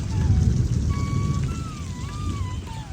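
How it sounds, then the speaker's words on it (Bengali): Light drizzle falls outdoors at a garden house, a steady soft hiss of rain with faint thin whistling tones drifting over it. "এই যে বৃষ্টি কিন্তু পড়তেছে ঝিরি ঝিরি"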